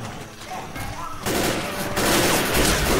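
Gunfire rattles in Left 4 Dead's Blood Harvest campaign as a dense burst of rapid shots and explosions grows louder and more chaotic over a few seconds.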